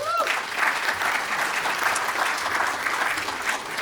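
Audience applause welcoming a speaker to the podium at a book launch event, steady and sustained for several seconds from a medium-sized crowd, at a moderate level.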